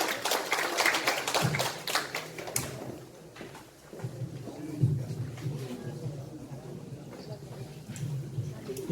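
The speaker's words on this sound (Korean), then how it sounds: "큰 박수로 맞이해 주세요" Scattered clapping from a Hwaseong citizens' regional meeting audience greets a council member for a couple of seconds, then dies away into quiet room noise and low murmuring.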